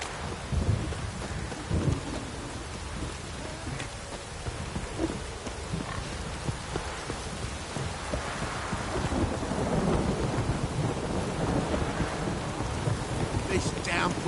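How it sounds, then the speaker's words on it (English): Heavy rain pours down steadily while low thunder rumbles intermittently underneath, a continuous stormy wash with no talking, in the video game The Witcher 3. "This downpour's a bastard, it is."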